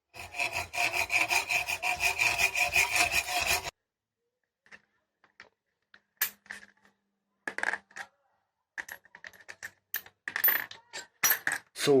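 A saw cuts through a gear shifter in a steady rasping stroke rhythm for several seconds, then stops, followed by scattered short metallic clicks and scrapes nearby.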